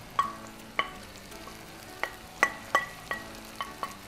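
Sausage tipped with its own liquid into a pan of frying onions, a soft sizzle under a series of sharp scraping and tapping stirs, about a dozen spaced knocks of a spoon against the pan, close and fairly quiet.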